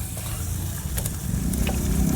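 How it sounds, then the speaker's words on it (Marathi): Green peas tossed into onions sautéing in hot oil in a pan give off a steady, close frying sizzle with faint stirring scrapes, continuous throughout with no talking. "हे पण या कांद्यातच टाकून घ्यायचे आहेत आणि 5 मिनिटं मस्त परतून घेऊ"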